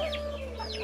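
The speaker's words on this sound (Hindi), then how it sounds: "मतलब हैन का बच्चा, मुर्गी का बच्चा, मुर्गा सब कुछ इधर है" Chickens, hens, chicks and a rooster cluck at a house, a brief burst of close clucking calls over a steady background hum.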